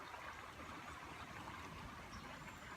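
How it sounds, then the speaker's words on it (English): Steady broadband rush of stream water flowing along a trail at the historic Shakertown village in Harrodsburg, Kentucky, continuous and fairly close with no voices. "That beautiful and relaxing water that you hear flowing"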